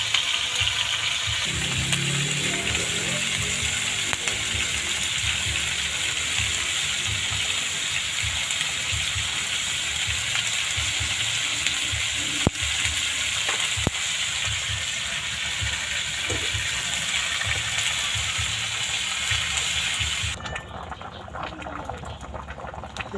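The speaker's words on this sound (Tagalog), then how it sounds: "Iprito ko muna siya." Steady sizzling and bubbling of pork leg frying in hot oil, a dense continuous crackle with a few sharp pops, close by and fairly loud.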